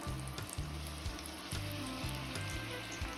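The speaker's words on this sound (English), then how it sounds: "Add your meatballs and sear them for a few minutes on each side until they're nicely browned." Meatballs searing in hot olive oil in a pan give a steady, close frying sizzle that holds evenly throughout, with a low background tone and no voices.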